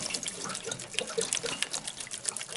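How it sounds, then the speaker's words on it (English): Water drains from an RV water heater tank through a loosened drain plug, giving a faint, steady splashing trickle with scattered drips. "there's this drain plug right here, which I've already loosened, and we're going to let the water out"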